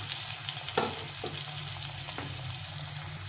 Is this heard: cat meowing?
no